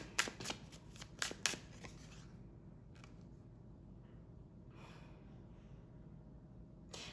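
A deck of tarot cards being riffled and shuffled in several quick bursts early on, followed by quieter, sparse card handling.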